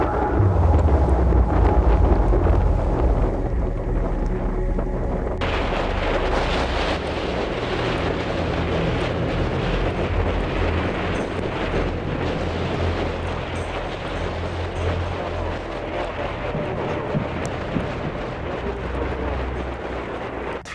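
Strong wind roars steadily across a snowy mountain in poor visibility, buffeting the microphone with a continuous deep rumble and gusty rush that never lets up.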